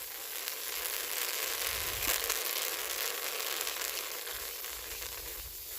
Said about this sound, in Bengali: মুড়ি ছাঁকার সময় যে এই যে আওয়াজ হয় না চাল দেওয়ার পরে